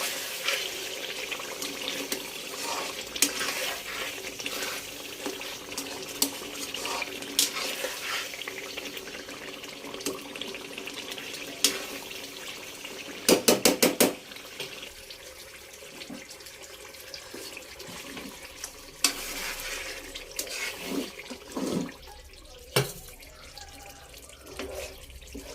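Water pours steadily from a tap or vessel into a pan of fried fish masala curry, a continuous splashing stream lasting most of the stretch with a brief louder burst midway, heard alone without talk.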